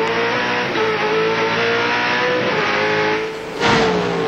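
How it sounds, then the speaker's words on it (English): A touring race car engine screams at high, steady revs from an onboard position at Calder Park in the 1997 Australian Touring Car Championship, briefly dipping and then roaring back up near the end, with no talk. "You now ride at the front of Glenn Seaton's car"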